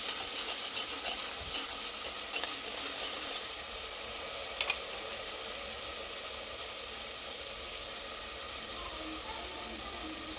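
Garlic spice paste sizzles steadily in a hot pan while cooking a tindora and potato curry, a constant close frying hiss with faint stirring scrapes.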